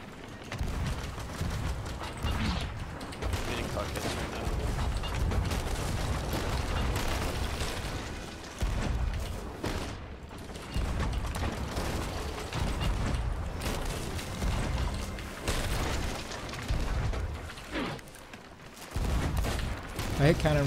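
Booming ship cannon fire and clattering mechanical noises from a Sea of Thieves-style naval battle aboard a brigantine repeat irregularly throughout, with dense, loud action sounds and no clear talk.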